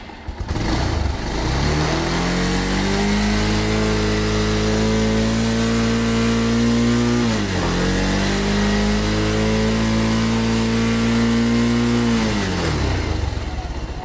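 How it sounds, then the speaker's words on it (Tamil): A motorcycle engine in neutral revved up from idle, rising and holding a high pitched drone, dipping briefly midway, then climbing again before falling back, loud and close with no talk. "ஸோ இப்போ வந்து வண்டியை ஆன் பண்ணி ரைஸ் பண்ணி பார்ப்போம் நம்ம."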